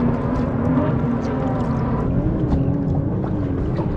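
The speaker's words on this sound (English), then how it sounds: "Jet ski." A jet ski passes over the water of Rainbow Channel near Amity Point, its engine a steady droning whine with a slowly shifting pitch, heard from a fishing boat over wind and water noise.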